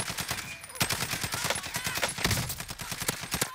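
Rapid gunfire from a SCAR rifle in the video game Call of Duty Warzone on Alcatraz, with dense, repeated bursts of shots running close and loud through the whole stretch.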